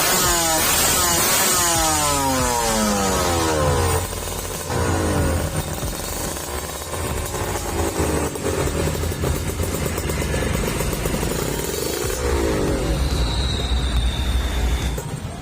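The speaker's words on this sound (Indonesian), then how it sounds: "hasil suara dari knalpot Creampy Blue Moon" A Kawasaki Ninja SSR motorcycle with a loud aftermarket Creampy Blue Moon exhaust revs up and down repeatedly, sharp rising and falling engine tones, close and raspy, with no speech.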